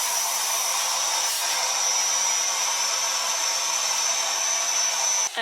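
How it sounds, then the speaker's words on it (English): Old vacuum cleaner sucking the air out of a storage bag, a steady loud whining roar of airflow that holds constant, then dips sharply right at the end. "I took our old and trusted vacuum cleaner, and now I'm gonna suck all the air out"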